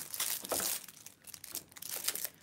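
Excess plastic wrapping being pulled and peeled off a sample while still warm, a quiet close-up crinkling and crackling in irregular bursts with short pauses.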